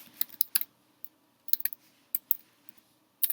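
Someone types a message on a computer keyboard, producing quiet, close keystrokes that come in short uneven bursts with brief pauses between them.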